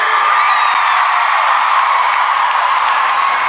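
A large crowd cheers and whoops loudly and continuously at a concert in Singapore, a dense wall of excited voices with no pauses.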